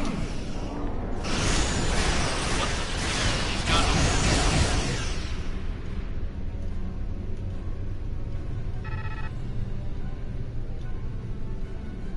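Disruption beam striking a starship in the game Star Trek Online: a loud, dense rushing blast swells for a few seconds, then drops away into a low, steady hum with a faint electronic tone.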